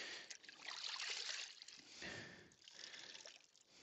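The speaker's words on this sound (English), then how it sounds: "When you squeeze it, it's supposed to gently drip." Water trickles and drips from a squeezed Big Gold Sponge, a soft, continuous dribble that swells and fades over a few seconds with no talking.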